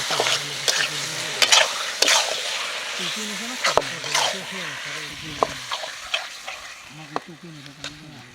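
Mutton pieces are stir-fried in spiced oil, with steady sizzling, repeated scraping and clattering strokes of a spatula against the pan, and a person talking throughout.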